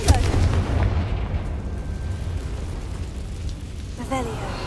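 A video game Confringo spell goes off as a deep booming blast, loud at the start, then settling into a low rumbling roar that gradually fades.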